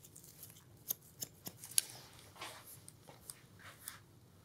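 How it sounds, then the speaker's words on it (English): Scissor blades snipping hair during a barbershop haircut, a string of crisp close-up snips at irregular intervals over a quiet background, with no talking. "being that I'm using scissors, that's what this is for."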